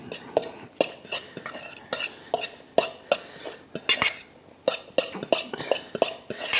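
A spoon stirs a cheese and mushroom mixture into cooked onions in a pan, giving steady rhythmic scraping and clinking strokes, close and clear, with no talking.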